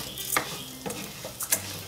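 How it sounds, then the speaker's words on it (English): Rice stirred in oil in a clay olla with a plastic spoon: a soft background sizzle broken by three brief scraping strokes, close and moderately quiet. "You guys are gonna mix, mix, mix,"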